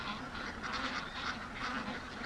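Flock of free-range ducks heard from a distance, a faint, continuous chorus of overlapping quacks and honks with no talk.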